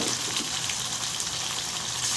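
Leg pieces of chicken frying in oil with a spice paste, a continuous bright sizzle with light bubbling, close and steady throughout, no talking.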